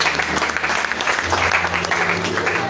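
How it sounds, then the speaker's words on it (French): Church congregation applauding steadily throughout, a dense continuous clapping from a crowd, loud and close, with a faint voice underneath. "Let them clap because they know them."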